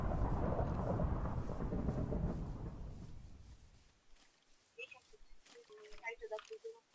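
Thunder in a Minecraft Hunger Games match rolls as a loud, low rumble that fades over several seconds, followed by scattered small game clicks and sounds.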